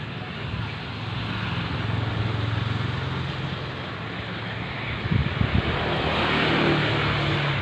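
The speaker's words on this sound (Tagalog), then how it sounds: "napakaingay kasi nasa gilid ako ng kalsada" Traffic passes along a roadside beside a fishing ground, heard as a continuous broad roar mixed with wind buffeting the microphone, swelling slightly toward the end, with a few brief thumps midway.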